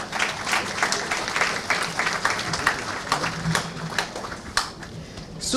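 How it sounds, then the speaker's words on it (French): An audience at a hospital inauguration applauds, giving several seconds of steady, moderately loud clapping with a few sharper claps standing out. "Je vous demande de les applaudir."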